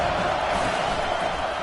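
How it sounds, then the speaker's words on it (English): A stadium crowd at a football game on third down roars in a loud, steady wash of cheering, with no distinct voices standing out. "Decibels rising as the crowd gets behind this defense on 3rd down."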